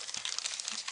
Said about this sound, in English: And then we have our plastic bags